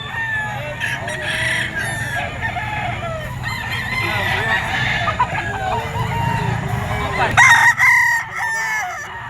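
Gamecock roosters crow at a crowded pet market in Bocaue, several overlapping calls rising from the din, one loud close crow near the end, amid clucking and market bustle.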